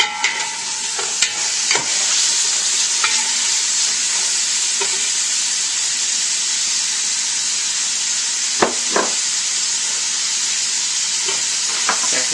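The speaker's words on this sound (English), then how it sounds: "Garlic. And then the ginger that we julienned earlier. And we're going to let that cook for a little bit." Garlic and julienned ginger fry in a hot pan with a loud, steady sizzle, broken by a few sharp clicks and scrapes of a utensil, no voices.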